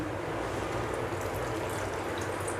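A little water poured into a pan of mangoes on a stove, a steady, even wash of liquid pouring that runs unbroken and fairly close, with no talking.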